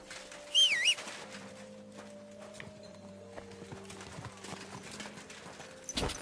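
Horse hooves clopping at a steady walking pace in Kingdom Come: Deliverance II, with birds chirping briefly near the start and low ambient hum underneath.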